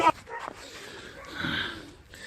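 A pregnant dog yelps and whimpers close by, a sharp cry at the start followed by strained, drawn-out whining and whimpers amid a tense outdoor scene.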